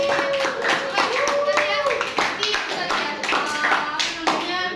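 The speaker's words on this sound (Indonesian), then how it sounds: "buat tepuk tangan buat Radit." Classroom applause at a university history-teaching practice session, uneven clapping from a small group of students with voices talking over it.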